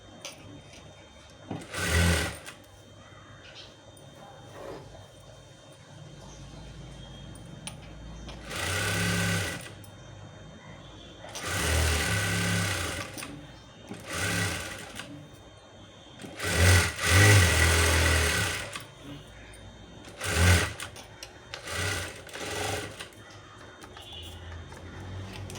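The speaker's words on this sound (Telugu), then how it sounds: "పాదం కుట్టు వేసుకోవాలి, వేసుకొని మళ్ళీ ఇలా స్టిచ్ చేసుకోవాలి" Bursts of sewing-machine stitching on a blouse, several runs of a few seconds each separated by pauses, close and fairly loud with a whirring motor tone.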